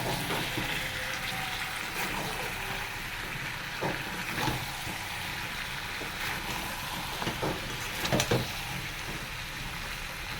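Chicken with papaya and potato stir-fried in a pan with tomato, chilli, pepper and whole garam masala, giving a steady close sizzle with occasional clinks and scrapes of stirring.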